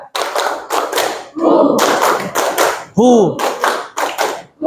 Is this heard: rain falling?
no